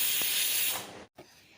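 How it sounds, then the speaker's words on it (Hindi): Steady loud hiss of steam escaping from a pressure cooker on a gas stove during home cooking, a continuous broadband rush that fades out, breaks off briefly, then resumes more faintly. "उसके बाद में मैं कुकर का ढक्कन लगा के 3 सीटी तक छोड़ दूँगी।"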